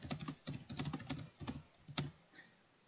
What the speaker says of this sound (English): you'd be inputting things on your keyboard